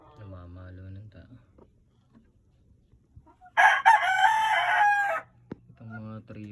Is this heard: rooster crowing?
yes